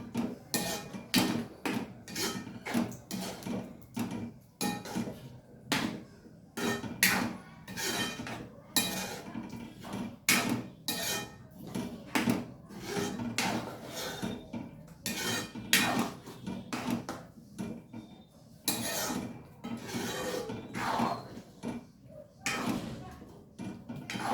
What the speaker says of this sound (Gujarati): મસાલો મિક્સ કરી દઈશું